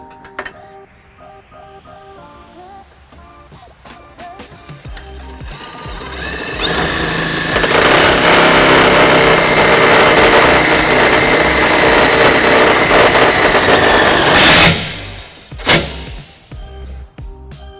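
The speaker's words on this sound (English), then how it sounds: "we'll be using these self-tapping screws" A power drill revs up and runs loudly for several seconds while driving a self-tapping screw, then cuts off abruptly, followed by a brief clack.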